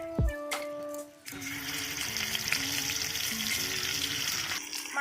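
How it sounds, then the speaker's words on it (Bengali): Fish fries in about a cup of oil in a wok, a steady, dense sizzle that starts abruptly after a clatter and continues evenly close by, with no talk. "এবার মাছগুলো ভেজে নেব"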